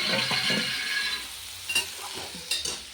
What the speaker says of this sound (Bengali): এখানে বিট গাজর আর আলু ভাজা হচ্ছে